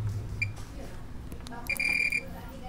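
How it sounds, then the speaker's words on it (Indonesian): A multimeter's continuity buzzer beeps while a technician traces the VGH line on a Samsung LED TV circuit board: a short blip, then a longer steady beep, with faint clicks and a voice speaking nearby. "Saya cari menggunakan buzzer ya."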